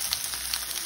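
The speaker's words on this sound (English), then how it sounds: "Potatoes are sizzling" Potatoes sizzle steadily in hot oil in a frying pan, a continuous close crackling hiss with small pops throughout and no talk.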